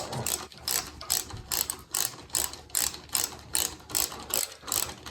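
Rhythmic ratchet clicks from a wrench tightening a bolt on a homemade bearing removal tool, about a dozen even bursts of close, crisp clicking with brief pauses between strokes, no voices.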